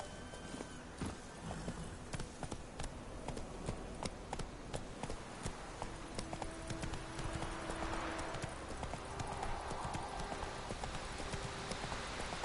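Horse hooves clip-clop in a steady walking rhythm close by in the video game The Witcher 3, repeated hoofbeats continuing throughout over a soft background hum.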